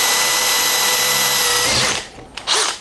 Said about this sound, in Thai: ผมจะไม่กดหนักมากนะผมกลัวสว่านมัน ลงไปกระแทกแล้วมันหักนะครับ